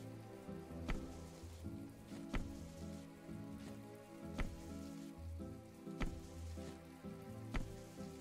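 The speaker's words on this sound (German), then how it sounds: "Ach, schaut doch mal das Regnen ab." Rain falls steadily in the video game My Time at Portia, a soft, even patter heard against looping in-game music with regular soft thumps, fairly faint overall and with no talking.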